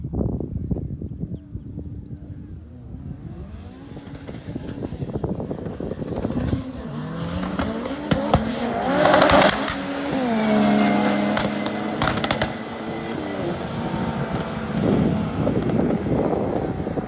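A twin-engine Opel Corsa and a Ferrari 488 Pista race each other, with engines revving and climbing through gears under gusty wind buffeting. The car sound swells loud near the middle and stays strong to the end.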